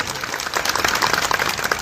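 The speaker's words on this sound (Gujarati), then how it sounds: "ધીરુભાઈ માટે એક જોરદાર તાળીઓ છે" Crowd at an Aam Aadmi Party political gathering in Muli breaks into dense, lively applause for Dhirubhai, many hands clapping together and rising in strength over a short burst.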